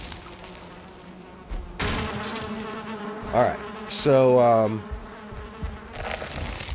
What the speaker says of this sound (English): Look at the bees on this island.